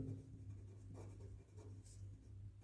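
A pen scratching on paper while writing out a Class 8 square-root maths problem: soft, close, continuous scribbling strokes with short pauses, quiet and alone.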